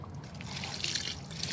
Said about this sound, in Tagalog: dagdagan natin ng tubig si bonsai